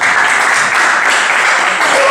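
An audience applauds at a slam poetry contest, with dense, steady clapping that fills the space, loud and continuous, with a slight dip partway through and no clear talk.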